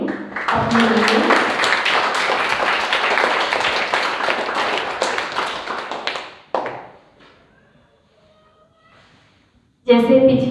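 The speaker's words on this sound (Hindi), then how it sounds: "आप सभी अपने लिए एक बार जोरदार तालियां बजाएंगे अपने लिए" Children at a Rajyoga positive-lifestyle programme clap loudly together for about six seconds, a dense burst of hand claps that fades into near silence before voices return at the end.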